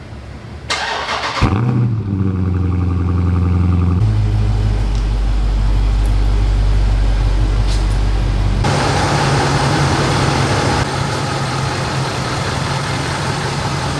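A Nissan Titan XD Cummins diesel truck starts with a quick crank and settles into a loud, close, deep idle. Its rumble then shifts in tone twice as it pulls into a garage.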